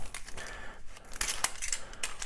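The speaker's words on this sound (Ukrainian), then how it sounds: "Я трішки порву." Taped paper packet being torn open by hand, a few quick rips and crinkles at close range, faint and uneven over about two seconds.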